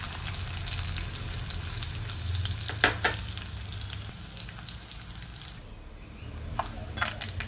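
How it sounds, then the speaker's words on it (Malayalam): Coconut pieces fry in hot coconut oil for a clam roast, making a steady bubbling sizzle. A few sharp utensil clinks and stirs come through, and one near the end. The sound is close and moderate, with no speech. "വെളിച്ചെണ്ണ നന്നായിട്ട് ചൂടായിട്ട് വരുമ്പോൾ നമുക്കിതിലേക്ക് തേങ്ങാക്കൊത്തുകൾ ചേർത്ത് കൊടുക്കാം."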